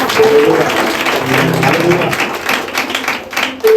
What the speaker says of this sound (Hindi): हम ताली बजाएं खुदा के लिए